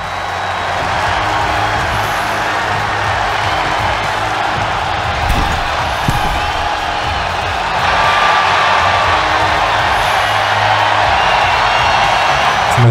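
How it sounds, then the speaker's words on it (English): A large arena crowd in WWE 2K23 roars and cheers steadily throughout, a loud, dense wash of voices that swells slightly in the second half, with no speech on top. "It's nice to have an adoring crowd cheering and enjoying"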